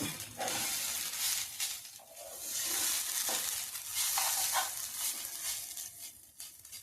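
Coconut ladoo mixture is stirred in a hot pan until it browns, with a steady sizzling hiss and scraping stir strokes, close and continuous with no talking.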